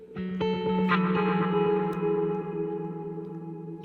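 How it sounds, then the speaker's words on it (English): An electric guitar chord rings out through a Meris CXM 1978 reverb pedal in hall mode, followed by a few more plucked notes that sustain and fade into a wide, washy tail. "Get a little reverb going on right here."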